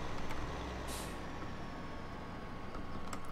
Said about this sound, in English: Gotta hit those brakes.